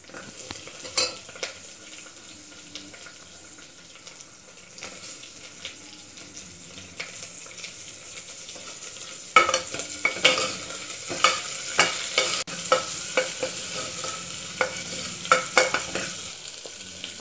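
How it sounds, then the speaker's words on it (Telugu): Onions fry in a pan for drumstick sambar. A quiet, low sizzle gives way to sharp, repeated scrapes and clicks of a spoon stirring, loud and close in the second half. "ఆనియన్స్, ఇవన్నీ బాగా ఫ్రై చేసుకోండి పచ్చి వాసన పోయే వరకు."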